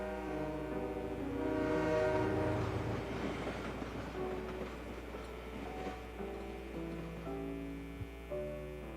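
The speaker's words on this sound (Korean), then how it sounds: "다시 떠나가는 기차 소리가 완전히 사라질 때까지 그는 고개를 돌리지 않았다" A train pulling away in a dramatized scene, with a long sustained rumble, rail clatter and a drawn-out horn-like tone, loud at first and slowly easing, alone without voices.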